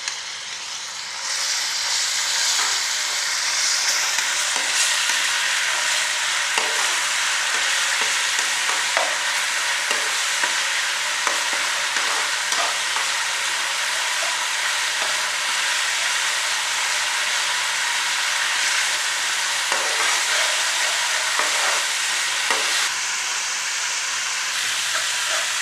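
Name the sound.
beef karahi frying: garlic ginger paste sizzling in hot oil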